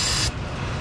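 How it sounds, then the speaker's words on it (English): A can of brake cleaner sprays down an engine area near the oil pressure sensor of a Mitsubishi Mirage, giving one close, loud hissing burst for about a third of a second before cutting off. "Get myself a can of brake clean. I'm gonna come in here and spray down the area"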